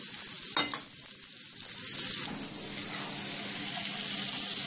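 Curry shrimp sizzles and sautés in a pan, a steady loud hiss with a couple of sharp clinks from stirring early on, the frying growing slightly stronger toward the end.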